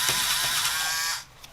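A Wiha SpeedE electric screwdriver whirs with a close, mechanical ratcheting buzz while loosening a screw, running steadily for about a second before cutting off.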